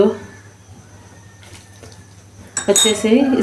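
A spoon works kunafa dough with cardamom in a bowl. After a quiet stretch of light scraping, sharp metal-on-bowl clinks and clatter break out near the end, and a voice seems to sound faintly beneath them.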